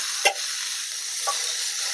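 Chopped tomato and coriander sautéed with fried onion for a village-style egg curry, a steady close sizzle in the pan with two brief scraping stir strokes, no voices.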